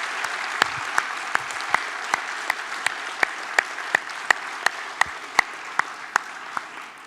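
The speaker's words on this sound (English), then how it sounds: "Now we can applaud." Steady applause from an audience honoring awardees at the San Francisco Good Government Awards, a moderate crowd clapping evenly with distinct individual claps punctuating the wash throughout.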